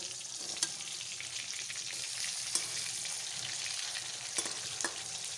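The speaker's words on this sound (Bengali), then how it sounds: "মাছের এক পিট ভাজা হওয়া পর্যন্ত অপেক্ষা করব।" Pieces of katla fish fry in hot oil in a pan, giving a steady, close sizzle broken by a few sharp pops and spatters, with no talking.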